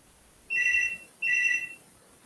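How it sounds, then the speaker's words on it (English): A mobile phone ringtone plays in a lecture hall, sounding as two identical electronic tone bursts of about half a second each with a short gap between them. The rings are clear and steady, and nobody is speaking. "Just 1 minute, one phone call is there."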